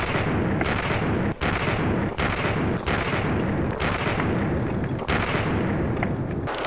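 Gunfire in a shooter video game, including shotgun blasts, pounds continuously and loudly, with repeated heavy shots and short bursts close by, no talk over it.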